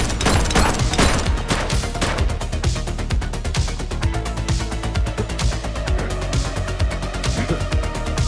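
Sustained rapid automatic gunfire in the police game The Precinct, a loud, continuous rattle of closely spaced shots with heavy low-end thump running the whole way through.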